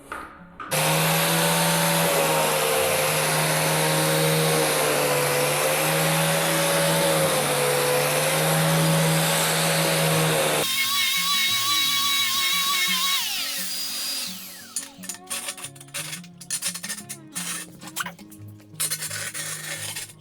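Power grinder sanding high spots on an uneven floor being levelled without a screed, a loud steady high-pitched whine for about ten seconds, then short intermittent grinding bursts and rattles.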